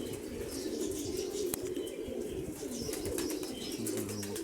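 Soft, steady cooing of pigeons close by, a continuous low warbling chorus with a few wing flutters and faint chirps mixed in.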